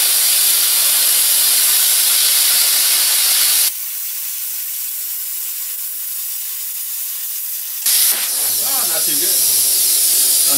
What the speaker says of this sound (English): I don't have a bandsaw, so I'm using a plasma cutter.